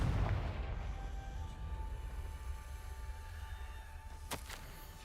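A Confringo fire spell blast in Hogwarts Legacy, a heavy booming burst at the start that rumbles and fades, followed by a couple of sharp crackles.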